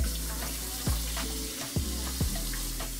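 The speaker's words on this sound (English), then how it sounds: "So first I'm gonna wash my hands." Hands washed under a running kitchen tap, a steady rush of water with a few brief splashes and thumps as the hands move through the stream, close and continuous throughout.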